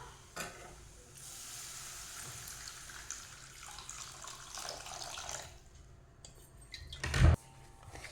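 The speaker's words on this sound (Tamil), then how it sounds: "தண்ணி ஊற்றிக்கணும்" Water poured into a pan of peanut gravy with chili powder, a steady sizzling, splashing wash for several seconds ending in a brief louder clatter near the close.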